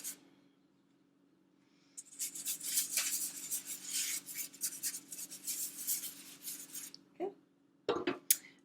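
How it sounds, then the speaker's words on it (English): Clean hands rub room-temperature butter across a baking sheet, a soft, close, continuous scraping and smearing texture lasting several seconds after a quiet start, ending with a few light clicks and knocks. "You can just rub that room temperature butter all over your baking sheet."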